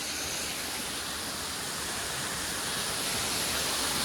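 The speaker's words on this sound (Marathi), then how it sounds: "हा जो धबधबा तुम्हाला दिसतोय हा मेन धबधबा आहे." Ranpat waterfall on a jungle trek, heard as a steady, loud broadband rush of falling water that holds constant throughout, with no voices.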